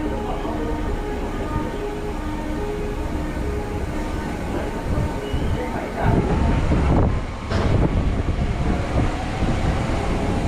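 A Hyderabad MMTS local train rumbles at a station with a constant low roar that swells into heavier, louder mechanical noise partway through.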